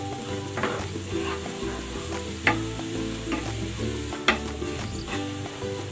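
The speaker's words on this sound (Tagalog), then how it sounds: "Ipiprito ko muna ito." Tofu fries in cooking oil with garlic, giving a continuous close sizzle under a steady low hum, with occasional sharp clacks of a utensil against the pan.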